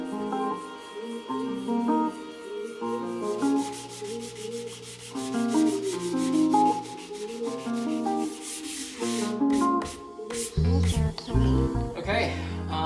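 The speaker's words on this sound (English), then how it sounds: "So I'm going to start sanding." Someone hand-sands a Harley Benton T-style guitar body, with rhythmic scratchy rubbing strokes over background music.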